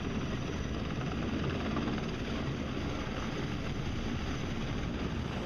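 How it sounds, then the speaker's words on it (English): An Erickson S-64 Air Crane heavy-lift helicopter gives off a dense, steady rotor and turbine roar. The noise stays even and loud throughout with no voices. "The Ericsson S-64 air crane is one of the world's most renowned heavy-lift helicopters."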